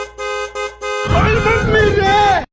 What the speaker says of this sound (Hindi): चूहा किसी तरह आजाद होकर हॉर्न बजाने लगता है